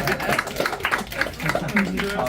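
A few people clap for a student headed to medical school, light, scattered claps mixed with overlapping conversation and short remarks nearby.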